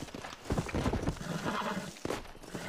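A horse in the video game Red Dead Redemption clip-clops on its hooves and gives a rising whinny. It sounds close, with a voice faint underneath.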